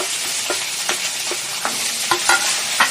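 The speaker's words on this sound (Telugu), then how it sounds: "పచ్చిమిర్చి, ఒక 1 spoon శనగపప్పు, మినపప్పు అయితే వేసుకొని కొంచెం వేయించుకోవాలి." Green chillies, chana dal and urad dal frying in oil with a constant crackling sizzle, broken by scattered scraping stirs from a spoon at close range.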